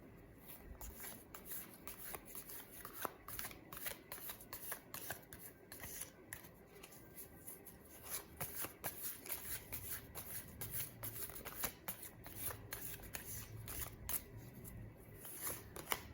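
Tarot cards are shuffled and handled at close range, giving a soft, continuous flutter of riffles and slides at low volume with no talking.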